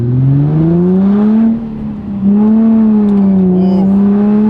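Nissan 350Z engine revving as its slipping clutch lets the revs climb, a loud, close droning tone that rises and wavers, dips briefly, then returns and holds high.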